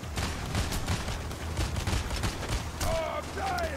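Rapid bursts of gunfire in the video game Heat Street, a dense crackling fusillade running throughout with no speech over it.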